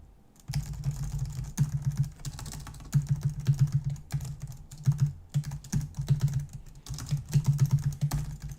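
Rapid typing on a computer keyboard, close and fairly loud, in bursts of clattering keystrokes with short pauses between them and no talking.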